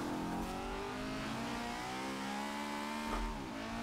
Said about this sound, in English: VTEC kicked in, yo.